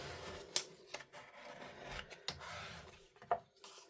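Card stock folded and scored for a pop-up card, with close rasping rubs and a few sharp creasing scrapes at uneven intervals, fairly quiet.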